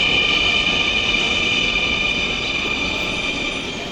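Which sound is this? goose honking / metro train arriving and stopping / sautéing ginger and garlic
metro train arriving and stopping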